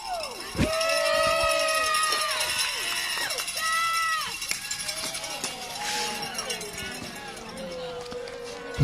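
Spectators at a tall bike joust shout, whoop and cheer in a loose, lively roar, with scattered whistles and rising yells over talking close by.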